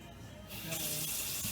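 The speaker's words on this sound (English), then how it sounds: "Rinse this out one more time just for good measure" Tap water runs briefly into a sink as glassware is rinsed clean of resin, a soft close splash that swells and then cuts off.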